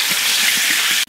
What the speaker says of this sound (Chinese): 先把这个豆瓣酱煸香，下入鱿鱼爆炒